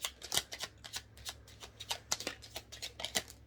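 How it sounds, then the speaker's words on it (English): A deck of tarot cards being shuffled by hand, close up, in a quick series of crisp riffling and flicking bursts with no talking. "Final shuffle for the femmes."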